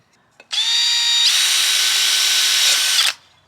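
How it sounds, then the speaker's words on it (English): A power drill bores a hole through the side of a plant pot for a potted succulent installation, one continuous whining burst of about two and a half seconds, close and loud, with its pitch rising slightly partway through and no voices. "I'm gonna drill another hole on the opposite side of this"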